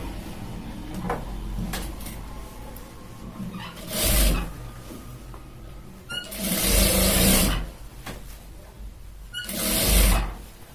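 A sewing machine stitches pant fabric along a folded seam, running in three loud sustained bursts separated by quieter handling and mechanical clatter, close to the microphone with no talk.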